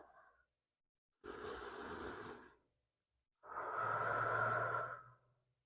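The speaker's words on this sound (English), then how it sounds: "Let's come back to the sound of our breath." Slow, deep breaths during a yoga child's pose: a brief exhale, then two long, audible breaths separated by silence, heard close and soft.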